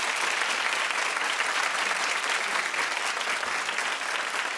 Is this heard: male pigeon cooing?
no